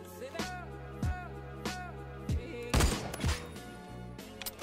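Dragunov SVDS sniper rifle fired in a video game, several sharp booming shots spaced about a second apart, loud and close, with a quick double crack near the end.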